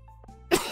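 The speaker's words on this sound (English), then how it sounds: "I've been cursed with a cough." A single short, sharp cough bursts out after a moment of quiet game music, close and fairly loud, from a streamer playing Stardew Valley.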